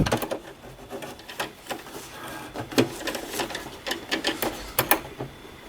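A sewing machine stitching a patch onto a loose-fabric jersey, its needle running in a steady quick clatter of close mechanical ticks with short pauses and restarts.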